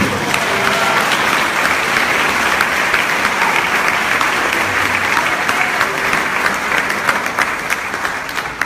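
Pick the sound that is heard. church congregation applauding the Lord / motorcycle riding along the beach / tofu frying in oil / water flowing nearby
church congregation applauding the Lord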